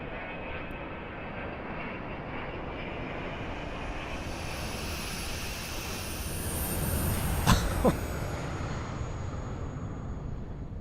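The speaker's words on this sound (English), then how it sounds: "Listen to the engines." Twin jet engines of a Dassault Falcon 50 business jet in a flight simulator, a steady broad roar with a high whine, swelling slightly near the end with a couple of brief sharp transients.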